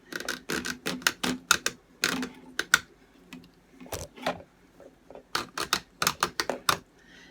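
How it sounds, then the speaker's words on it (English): A steak knife sawing back and forth through very hard plastic, quick bursts of sharp scraping strokes in irregular clusters with brief pauses, close and clear with no voices. "So I'm going to just try sawing it here."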